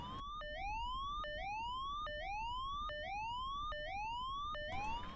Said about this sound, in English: We click the battery on and we'll hear a siren.